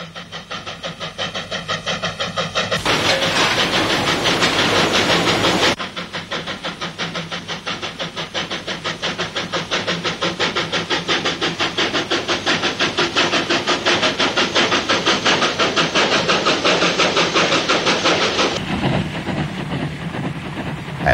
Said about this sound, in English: a northbound train departs for Northam and thence over the Darling Ranges to Perth